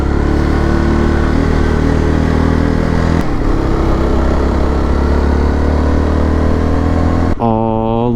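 A motorcycle engine labouring up a very steep road, a loud, steady, close drone with a strong low rumble that shifts in pitch partway through, then drops toward idle at the end.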